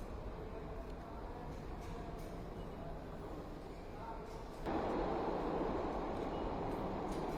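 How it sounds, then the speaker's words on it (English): A subway train rumbles along steadily underground, the noise swelling louder partway through as the ride continues, with a voice talking over it. "Are you in the subway?"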